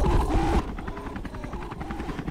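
A helicopter in a Christmas-themed horror video game thumps overhead with fast rhythmic rotor pulses, loud and close, after a burst of other game noise at the start.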